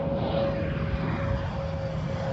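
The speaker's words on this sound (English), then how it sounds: "Plane" An airplane flies overhead, producing a continuous broad engine drone that stays fairly steady and moderately loud throughout.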